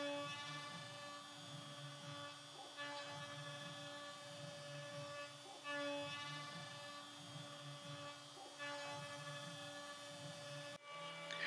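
A router makes a machining pass along a bass guitar neck blank, a steady high whine with a rhythmic low pulsing as the cutter sweeps back and forth, close and continuous throughout.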